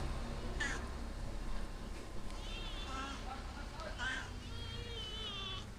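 Several faint cat meows rise through a busy background at a cat-boarding house in Batukaras, Indonesia, with a few wavering calls spaced apart and general room noise throughout.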